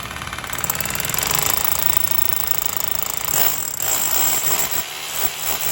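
A power drill bores a small hole about an inch deep for a screw while mounting a motion-activated security light fixture. The motor whines loud and close, with a steady buzzing grind that shifts and cuts out briefly near the end.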